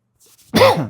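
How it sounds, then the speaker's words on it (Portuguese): One harsh, raspy cough bursts out close up after a faint breath, short and forceful. "tosse cruel, viu?"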